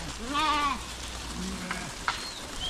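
A flock of sheep on a village road in Karnataka bleating, one clear wavering bleat up close followed by fainter calls and a soft click over a low background hum.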